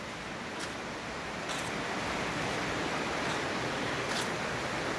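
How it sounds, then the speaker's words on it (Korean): Rain falls outdoors at an herb healing center on the road to Naejangsa temple in Jeongeup, a dense, steady hiss with no gaps filling the whole stretch. "빗소리 듣고 힐링하세요."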